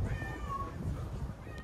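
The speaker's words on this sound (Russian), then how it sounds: "И тут коты, везде мявкают коты." Cats meow around the veranda of a budget seaside hotel in Turkey, a couple of drawn-out mews over steady low background noise and bustle.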